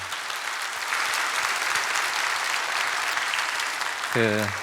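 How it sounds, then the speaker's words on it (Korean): A church congregation at a Sunday praise worship service claps in a steady, broad wash of applause for about four seconds, and a voice speaks briefly at the end. "하나님께 영광의 박수 한번 올려드리도록 하겠습니다."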